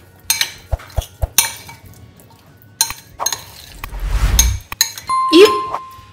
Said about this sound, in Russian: Добавляем сюда заправку. Хорошо перемешиваем.